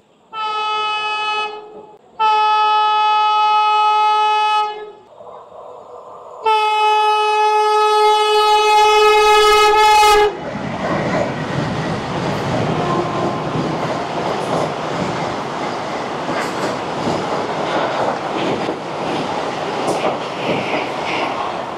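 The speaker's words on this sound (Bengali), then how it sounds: "বেরিয়ে গেল বন্দে ভারত" Puri–Howrah Vande Bharat Express at a station: several long, loud two-tone horn blasts with brief gaps, then a sustained rushing roar and rattle of the coaches as the train passes close by.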